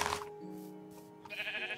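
A Minecraft sheep gives two short, nasal bleats in quick succession, close and clear with nothing else around them.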